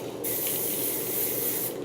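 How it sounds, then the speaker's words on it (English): Bumble and Bumble hairspray sprays onto curled hair in one steady, close hiss lasting about a second and a half, starting and stopping cleanly with no talking. "I use Bumble and Bumble hairspray as well"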